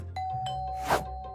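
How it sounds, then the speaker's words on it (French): A home doorbell gives a soft ding-dong chime with a faint ringing tone, quiet and close, with no talking over it. "Ça, c'est la sonnette."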